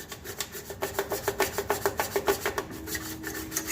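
A brush scrubs back and forth inside the pot of a Ninja Foodi to clean it, making a rapid, rhythmic scratching of about a dozen close, even strokes that then slows and trails off.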